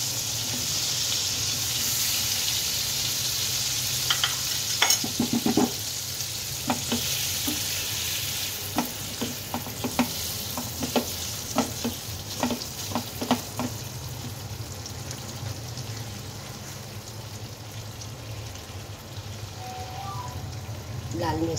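Paneer frying in oil or ghee in a pan, a steady broad sizzle with scattered scraping clicks from stirring, while someone talks over it.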